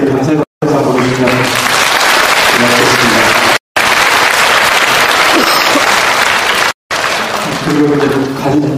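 Audience applauding at a Buddhist dharma talk, a steady wash of clapping that fills most of the stretch, broken by a few brief cuts, with someone speaking over it at the start and end.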